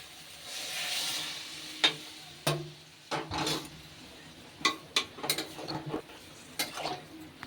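Warm water poured into a sizzling soybean and potato curry in a pan brings a brief hiss, then a run of sharp clinks and scrapes from stirring against the metal, close and without voices.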